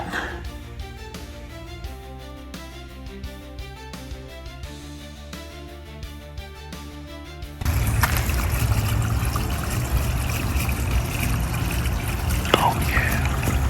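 Water drains from a well being bled out by plumbers during a tiny house renovation, starting as music-like patter and then turning into a loud, steady rushing gush that continues to the end.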